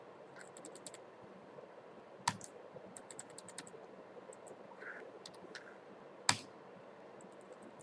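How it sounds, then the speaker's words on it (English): Quiet clicking of keys on a computer keyboard during a MATLAB session, with scattered light taps and two sharper louder keystrokes standing out against low background noise. "When I am typing"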